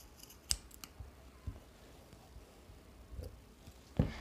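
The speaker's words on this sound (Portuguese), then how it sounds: "Aqui nas dobras, no cantinho das dobras, a gente vai cortar um pouquinho, bem pouco" Scissors snip into folded fabric in a few sparse, quiet clicks spaced over about four seconds. A sharper snip comes near the end, and no one speaks.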